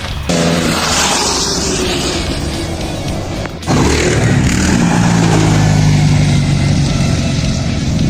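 Motocross motorcycle engines roar steadily at a countryside motocross track in Zhytomyr, a loud continuous drone with a brief dip partway through before the rumble swells again.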